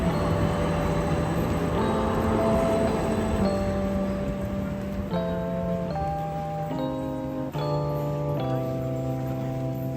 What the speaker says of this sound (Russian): И снова интересный трамвай.